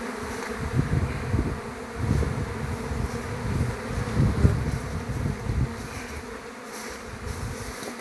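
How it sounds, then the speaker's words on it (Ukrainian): Young honeybees buzz on an orientation flight near flowering goldenrod, a dense, continuous outdoor hum of many insects with gentle swells in loudness throughout. "Молода муха йде на обльот."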